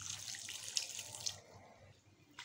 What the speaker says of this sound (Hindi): 3 गिलास जो हम पानी डालेंगे।